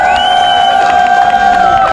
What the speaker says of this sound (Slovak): veľký potlesk pre otužilcov